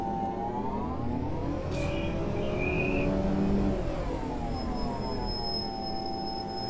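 A MAN Lion's City CNG city bus in OMSI 2 pulls away from a stop, its engine droning steadily and rising in pitch as it accelerates, with a faint high whine from the drivetrain and no talk.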